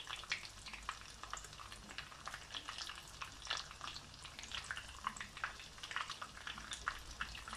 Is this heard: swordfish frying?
yes